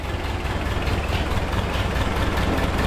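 An old, long-neglected Ford tractor engine idling after being revived, a loud steady low rumble with some knocking texture, close by and without talk.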